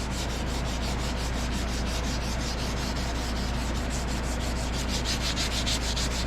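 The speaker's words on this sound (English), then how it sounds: "Got some 320 grit. Very, very fine sandpaper." Fine 320 grit sandpaper rubs over a Bear and Sons Gold Rush Bowie knife handle in quick, even back-and-forth strokes, a close, steady scratchy rasp with a regular rhythm.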